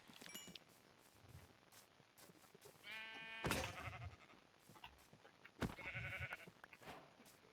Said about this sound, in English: Oh, pink sheep. It's a pink sheep.